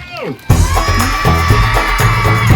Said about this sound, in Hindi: मैडम प्लीज जोरदार तालियां।